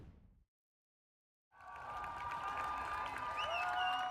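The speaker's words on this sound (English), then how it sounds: "the protesters were greeted by cheering crowds when they were released from jail today" Outdoor crowd outside a jail cheering and clapping as released pro-Palestinian UCLA protesters emerge; after a short cut to silence, a sustained wash of applause and shouts rises and holds steady.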